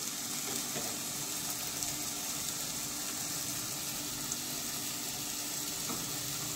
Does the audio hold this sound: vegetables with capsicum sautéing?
yes